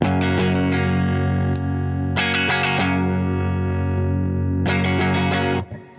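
Stratocaster played through a Taurus Servo 2 amplification unit, thick and driven, with repeated strummed chord bursts and sustained ringing between them, loud and close, no voices.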